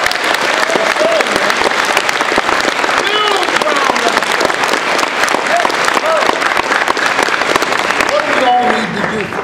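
A high school audience bursts into loud, continuous applause at an anti-bullying standup show, packed clapping with scattered cheers and voices rising through it for the whole stretch.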